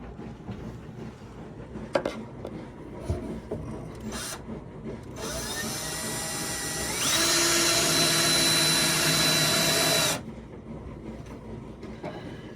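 A power drill drives cabinet screws through existing holes into a wood-walled cabinet, with a few short bursts and then one long whining run that rises in pitch and stops, loud and close with no talking.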